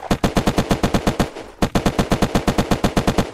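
Rapid automatic gunfire from the video game Unturned, two loud bursts of evenly spaced shots with a brief gap between them, close and dominant with no talk.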